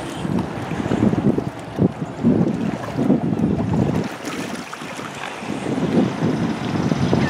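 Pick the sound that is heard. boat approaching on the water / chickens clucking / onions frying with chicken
boat approaching on the water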